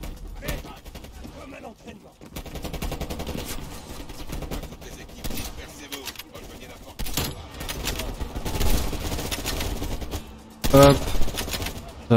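Gunfire in the video game Call of Duty: Black Ops Cold War comes as rapid automatic bursts and sharp cracks. These recur through the scene and grow denser and louder toward the end, with voices talking over the shooting.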